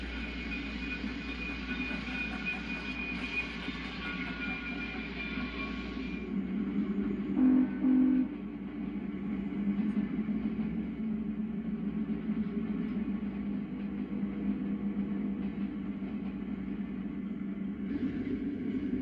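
New E-unit diesel locomotives pulling out of a Springfield-area station bound for Columbus, a steady low rumble and rolling rail noise, with a brief louder tonal burst like a horn midway, continuing throughout.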